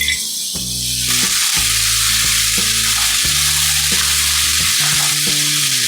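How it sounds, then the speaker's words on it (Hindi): Finely chopped capsicum frying in a pan for pasta, a loud close sizzle that swells as the pieces go in, with a low tonal hum and intermittent stirring scrapes, no speech. "अब इसमें बारीक कटी हुई शिमला मिर्च डाल देंगे।"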